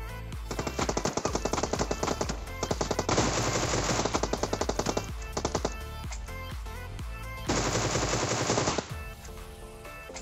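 Bursts of rapid automatic gunfire in PUBG around Pochinki, several sustained volleys separated by short pauses, loud and close with sharp repeated cracks.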